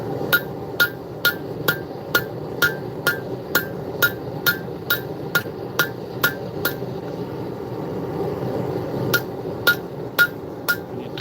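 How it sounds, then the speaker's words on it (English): A hammer strikes a steel knife blade being forged, the metal worked cold, ringing out in a steady series of sharp blows that pause briefly before a few more strikes, over a low background rumble. "I need to stop forging that."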